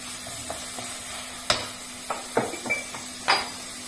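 Ginger-garlic paste frying with green peas rice in a pan: a soft background sizzle broken by several sharp metallic scrapes and clinks of a spoon against the pan, close and without talk.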